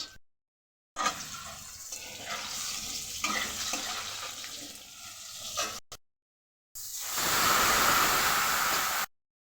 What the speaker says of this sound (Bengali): জল ঢেলে দিয়েছি, ফুটলে মাছ দিয়ে দেব।